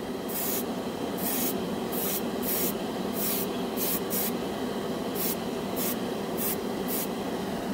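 An airbrush spraying Vallejo Air paint straight onto bare plastic on a scale model, heard as close, loud bursts of airy hiss that start and stop roughly a dozen times over a steady compressor-like background.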